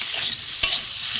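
Spices and chunks of elephant foot yam for a prawn curry are stir-fried in a pan, a steady close sizzle with the scrape of a spoon stirring through it and one sharper clink midway.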